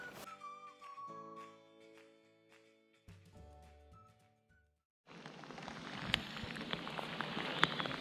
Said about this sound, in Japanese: まあよう降りますな。